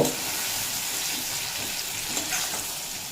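Ridge gourd and potato pieces fry in oil in a wok, giving a steady, close sizzle with a faint bubbling texture throughout.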